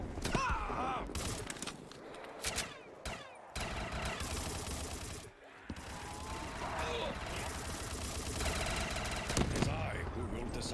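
Rapid, dense gunfire from Black Ops 3 Zombies, with explosive-only guns, crackles in sustained bursts with short gaps, while voices talk over the shooting.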